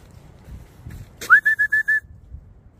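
Short training whistle blown for a dog on a woodland walk: one rising note, then a rapid series of five sharp, loud, evenly spaced pips, clear over quiet outdoor background.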